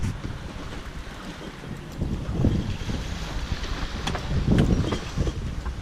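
Wind of 15 to 20 knots blows across a sailboat on open water with 3 to 4 foot waves, giving steady rushing microphone buffeting and low rumble that swells in gusts over the water noise, with no speech.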